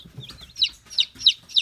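Baby chicks from a mail-order box cheeping loudly in quick repeated high-pitched bursts, close to the microphone, with faint low rustling underneath.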